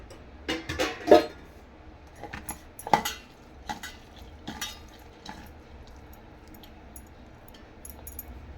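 Jowar flour vada batter with onions and oil mixed by hand or spoon in a bowl, giving a cluster of clinks and wet scraping early on that thins to occasional soft taps, with no talking.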